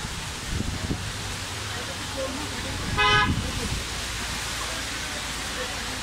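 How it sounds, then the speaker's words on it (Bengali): Busy bus stand in Rangpur on a rainy day, with a steady wash of traffic and rain noise and a single short car horn toot sounding midway, fairly close. "আমরা এখন বাস স্ট্যান্ডে আছি"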